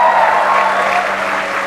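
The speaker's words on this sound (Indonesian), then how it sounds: "kita kasih tepuk tangan ke Mas Abdur Arsyad." A studio audience on the comedy show Opera Van Java applauds a guest comedian in a brief, loud, continuous wash of clapping from many hands that fills the room without a break.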